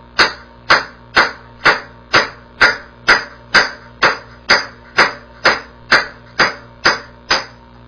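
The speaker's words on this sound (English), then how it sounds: "we're going to drive the top cup the same way. Hit it with a hammer." A hammer drives a bicycle headset top cup into the frame with thirteen sharp metallic blows, evenly spaced about every half second, loud and close with no talking.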